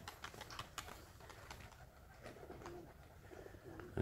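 Tumbler pigeons fly overhead outdoors, their wing clatter coming as scattered, sharp bursts over soft cooing and steady low background noise.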